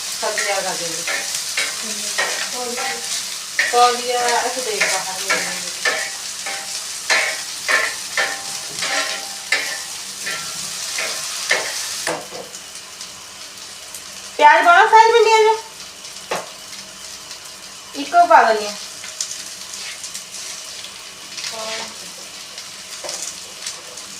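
Okra frying on a hot griddle (tawa) in a home kitchen, with a steady sizzle and repeated stirring scrapes, followed by quieter cooking noise; a voice talks intermittently over it.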